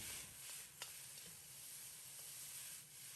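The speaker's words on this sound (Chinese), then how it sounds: "放入准备好的土豆、胡萝卜、香菇，在锅中煸炒1分钟，炒至断生。" Potato, carrot and shiitake stir-fried with sausage in a pot give a steady close sizzle, with a few brief scraping stirs and no voices.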